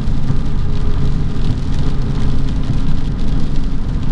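Freezing rain pours down during an ice storm, a dense, steady hiss of drops with a low rumbling undertone, constant and fairly loud throughout with no voices.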